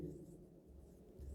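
Writing on a board during a physics class, faint scratchy strokes in short bursts under a low background.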